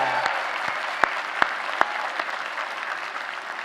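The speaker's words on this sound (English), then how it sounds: "Give yourself a round of applause." New graduates at a Continuing Education and School of Health convocation ceremony applaud themselves, a dense crowd of clapping that sustains throughout with a few sharper claps standing out.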